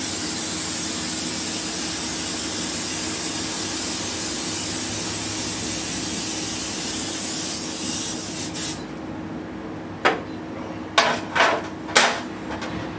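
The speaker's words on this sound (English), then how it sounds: "and then I will spray the top." Cooking spray hisses in a few short bursts over food on a sheet pan for a honey balsamic pork chop dinner, four quick close spritzes after a steady background hum.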